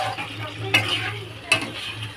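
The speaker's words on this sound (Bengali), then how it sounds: "মাঝে মাঝে একটু একটু মশলার জল দিয়ে কষাচ্ছি" Spice paste and lote fish being stirred and fried in a pan, a steady low sizzle with two sharp scraping strokes of the spatula about a second apart, close and alone.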